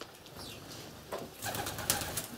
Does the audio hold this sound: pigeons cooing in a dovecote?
yes